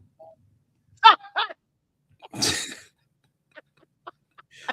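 A few separate throaty bursts, coughs or throat clearing, close and isolated in near silence, followed by a longer breathy exhale.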